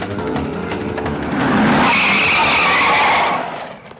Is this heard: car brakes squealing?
yes